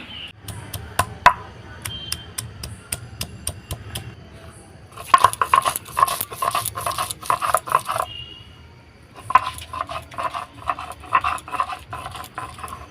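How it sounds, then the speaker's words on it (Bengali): Ginger and garlic ground together into a paste: a few sharp knocks at first, then bursts of rhythmic, gritty crushing and scraping, close and fairly loud, with short pauses between rounds. "আগে আদা রসুনটা বেটে নিই"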